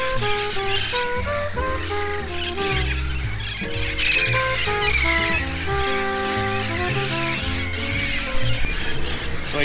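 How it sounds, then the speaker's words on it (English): Parrots squawking and chattering at their roost in trees on a park edge in Brownsville, a dense, loud, continuous din of overlapping calls. "So we definitely found where all the parrots roost."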